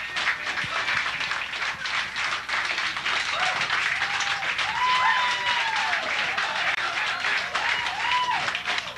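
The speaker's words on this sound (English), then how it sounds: "let's have one more round of applause for both great players" An audience gives sustained, dense applause after the $100,000 challenge pool match between Efren Reyes and Earl Strickland, clapping steadily throughout with faint voices mixed in.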